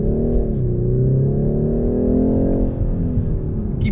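A BMW 430i xDrive in sport mode accelerates hard, its engine holding a loud, steady, rising drone from start to end with no pauses and no voices.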